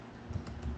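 A few quick keystrokes tap on a computer keyboard during WordPress work, soft and close in a quiet room, lasting under a second.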